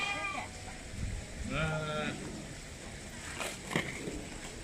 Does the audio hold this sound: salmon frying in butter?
no